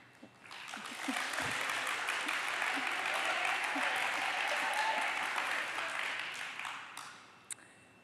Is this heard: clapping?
yes